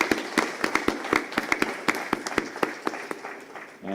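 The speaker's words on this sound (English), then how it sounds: "So 1 big applause for him." Sparse, scattered hand claps from a small closing-ceremony audience at a 2025 sustainable energy conference in Morocco, a few distinct sharp claps in an uneven patter that thins out, fairly close and moderately loud.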